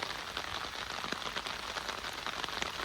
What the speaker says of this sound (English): It's just heavy bit of rain